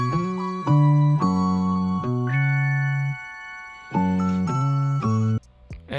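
A pitched-up rendered melody loop for a vintage-style beat plays dry without effects: sustained, bright, slightly buzzy tones stepping through a short phrase, with a brief pause and a chime-like glitch near the end.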